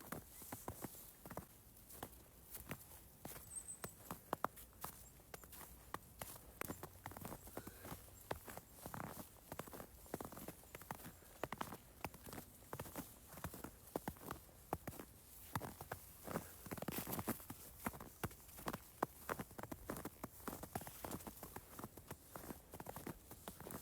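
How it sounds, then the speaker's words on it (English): Soft crunching footsteps in snow, walking at a steady pace, close and quiet, continuing throughout with a faint outdoor hush behind them. "And the sound of my own footsteps."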